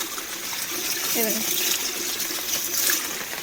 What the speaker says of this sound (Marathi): वरतून डोंगरातून जो झरा येतोय ना तर त्या झऱ्याचं पाणी म्हणजे इकडे येते